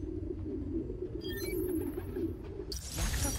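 Pigeons cooing in a city park in the Spider-Man Miles Morales video game, a soft low burbling coo running steadily under faint ambient hiss, with a brief brighter burst near the end.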